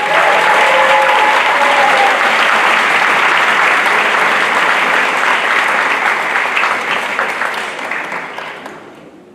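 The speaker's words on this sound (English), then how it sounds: "This year's 3 recipients, hold your applause, are Sebastian Alvarado, Matthew Fahey, and" A school senior awards night audience gives loud, dense applause for scholarship recipients, steady and close for most of the stretch before tapering off near the end.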